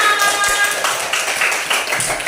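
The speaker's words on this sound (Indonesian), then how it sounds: "beri tepukan yang gemuruh untuk kita semua" A classroom of children applauds together, a dense burst of rapid, overlapping claps close by and fairly loud throughout.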